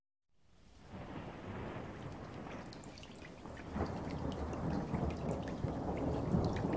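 Heavy rain pours steadily as thunder rumbles low and rolls on, swelling louder toward the end, with no voices.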